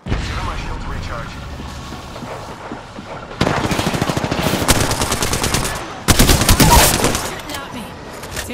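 Automatic gunfire rattles through a video game firefight in loud, close bursts, separated by short pauses. A voice talks throughout.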